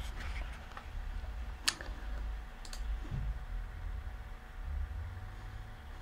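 A computer mouse clicks a few times while working in accounting software, sharp isolated clicks over a low steady room hum.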